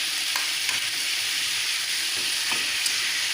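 Chicken cooked with khar is stirred and mixed in a sizzling pan. Soft scrapes repeat over a constant frying hiss, with no voices.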